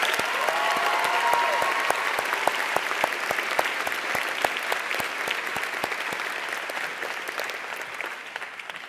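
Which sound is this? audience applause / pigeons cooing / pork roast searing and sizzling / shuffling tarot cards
audience applause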